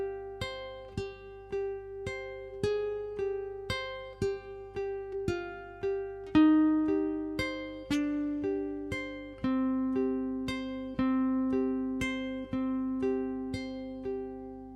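Plucked ukulele chords from a song ring out one strum at a time in a slow, steady rhythm, bright and clear, close up with no talking.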